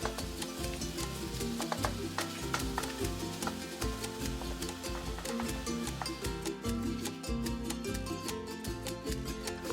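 Ground beef with store-bought taco mix frying in a pan: a steady sizzle with scraping and stirring, continuous and close, under background music.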